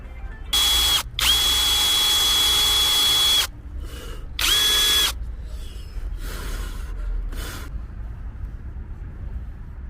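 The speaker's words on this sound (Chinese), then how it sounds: "我先拿电钻给你试一下吧" An electric drill whirs in several loud bursts while removing a broken part from a Ford engine, the motor winding up to a steady high whine, with rattling handling noises between runs.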